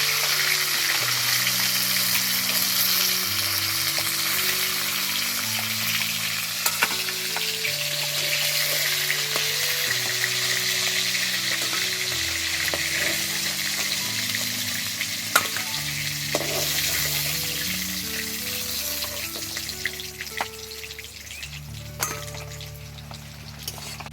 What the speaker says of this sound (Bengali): মাছের মাথাগুলো খুব ভালোভাবে ভেজে নিয়েছি, এবার তুলে নেব